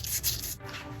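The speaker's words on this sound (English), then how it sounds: "my die grinder with a pad on here and take off some of this rust" Die grinder with an abrasive pad rubbing rust off brake parts on a Lexus IS350, a brief close scraping grind that eases off partway through.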